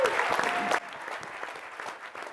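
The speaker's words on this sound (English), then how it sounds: "Another round of applause for Ellie Armstrong." A conference audience breaks into loud, dense applause that cuts off abruptly, leaving quieter scattered claps and room murmur under faint talk.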